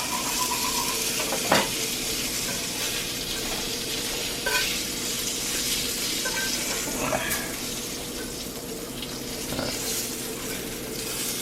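Eggs sizzle in a cast iron pan in a home kitchen, a steady frying hiss with a few sharp clinks of a utensil against the pan and no speech.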